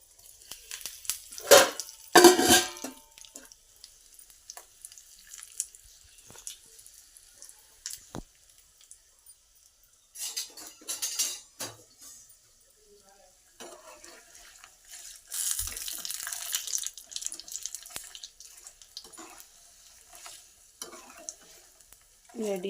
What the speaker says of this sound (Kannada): ಇಲ್ಲಿ ಶೇಂಗಾ ಬೀಜ, ಆಮೇಲೆ ಸಾಸಿವೆ, ಉದ್ದಿನಬೇಳೆ, ಆಮೇಲೆ ಕಡಲೆಬೇಳೆ ಎಲ್ಲ ಹಾಕಿದ್ದೀನಿ। ಈಗ ಕರಿಬೇವು ಸೊಪ್ಪು ಹಾಕಿಬಿಡ್ತೀನಿ